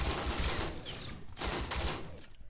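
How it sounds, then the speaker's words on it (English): Sustained rapid gunfire from the Shocker, a three-round burst rifle in a game weapons demo, loud and dense throughout with short dips between bursts and no speech. "The Shocker is a burst rifle, kind of similar to what you'd see in Halo and Fortnite"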